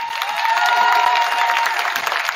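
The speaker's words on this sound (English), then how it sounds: "Round of applause for her." Brief round of applause at a boys' volleyball team banquet, a modest crowd clapping steadily for a secretary, with a faint tone running beneath the clapping.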